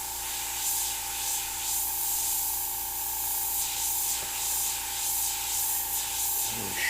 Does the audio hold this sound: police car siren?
no